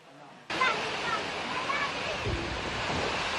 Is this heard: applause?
no